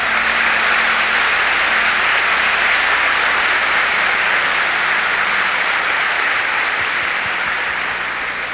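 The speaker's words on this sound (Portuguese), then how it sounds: "Give the Lord a big clap for that." Dense, sustained applause fills a church congregation, a broad wash of many hands clapping steadily at full volume before easing slightly toward the end.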